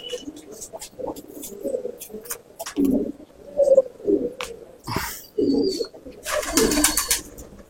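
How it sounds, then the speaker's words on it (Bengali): A pair of Rampuri pigeons coo in low repeated bursts close by, with some wing flutters and chirps mixed in while someone talks over them. "এই যে আরেক জোড়া রামপুরি পায়রা।"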